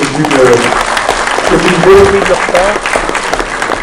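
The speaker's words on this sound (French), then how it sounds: "on peut les applaudir" An audience applauds steadily at a civic-day presentation, a dense wash of clapping that holds throughout while a voice talks over it.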